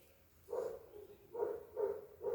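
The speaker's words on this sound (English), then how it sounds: "Can you hear dogs barking outside?" Several dogs bark outdoors at a moderate distance, four short bursts spaced about a second apart over a quiet room background with no one speaking.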